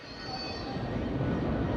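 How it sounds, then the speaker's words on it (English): Paris Metro Express train running at speed, a steady loud rumble of wheels and carriage with faint squealing, continuous and close with no voices. "this brand new Metro Express."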